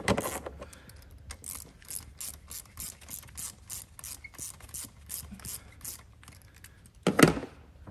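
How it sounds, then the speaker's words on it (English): A ratchet with a 10 mm socket snugs down bolts during intake manifold and valve cover gasket work on a Toyota Camry V6, giving steady runs of close, crisp clicking, with a louder burst of clicks near the end. "just tightened them both down with those 10 millimeter sockets"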